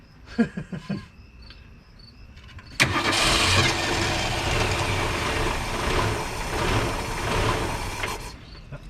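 A 1961 Ford Falcon engine cranks with a few short clattering bursts, then catches and roars into a loud, steady running rumble close by, with crickets chirping faintly in the background.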